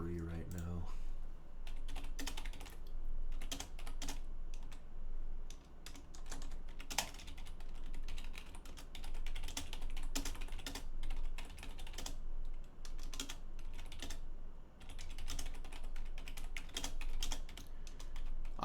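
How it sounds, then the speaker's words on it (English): Rapid, steady typing clatters on a computer keyboard for the whole stretch, close and busy with irregular bursts of key presses and brief pauses, with a faint voice murmuring underneath. "You can talk while I'm typing."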